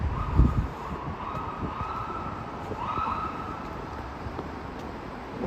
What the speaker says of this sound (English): There's an ambulance going by.